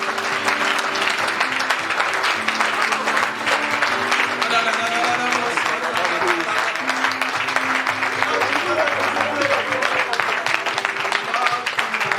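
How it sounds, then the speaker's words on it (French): A church congregation claps for the Lord at a prophetic service, with sustained loud applause throughout and music and voices underneath. "Can we clap for the Lord?"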